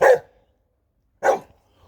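A dog barks twice outdoors in an urban garden, two short sharp barks about a second apart, close and fairly loud, with silence between and no speech.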